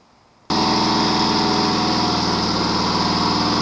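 A lawn mower engine with a faulty carburetor bursts into life after a quiet moment and then runs loud, steady and close at a high-pitched, even drone.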